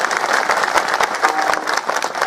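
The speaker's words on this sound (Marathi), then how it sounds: "एकदा माझ्या कृष्णा दादासाठी जोरात टाळ्या वाजवा" A crowd at a devotional kirtan gathering claps loudly and steadily in a dense, continuous burst of applause that fills the whole moment, with little talk over it.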